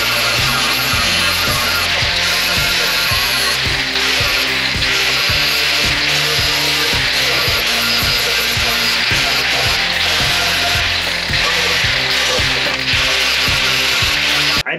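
A grinder works down a leaking steel beer keg being made into a gas tank for a Model A rat rod. It sounds as a loud, continuous abrasive rasp with a rhythmic pulsing as the tool is worked back and forth, close and steady.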